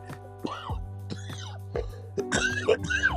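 A few harsh throat-clearing coughs come up close, mixed with short voiced grunts and strained noises.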